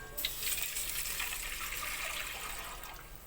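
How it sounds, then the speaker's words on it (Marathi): Water poured into a pot of hot oil with garam masala and bay leaves for biryani rice, a soft, fairly faint, continuous splashing rush. "आता यामध्ये पाणी घालून घ्यायचे"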